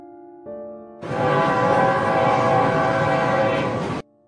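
Cartoon sound effect of a train running: a loud, steady rumbling roar with a whistle-like tone, starting abruptly after a brief tonal lead-in and stopping sharply about three seconds later.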